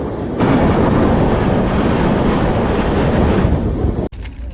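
Interior of the Pune–Hazrat Nizamuddin Duronto Express passenger train under way, a loud steady broadband rumble and roar of wheels and carriage that holds for about four seconds before cutting off abruptly.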